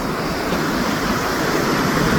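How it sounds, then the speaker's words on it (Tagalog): Rough, storm-darkened sea waves crash on shore in bad weather, a loud, continuous roar of surf and wind that fills the whole stretch without pause. "Dahil yung dagat, galit na galit."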